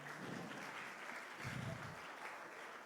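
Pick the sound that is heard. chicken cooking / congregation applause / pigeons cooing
congregation applause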